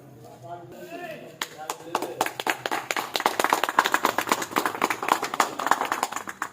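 An audience applauds as a flag is unfurled at a Republic Day gathering, starting with scattered claps and building into dense, loud, fast clapping, with voices heard at the start.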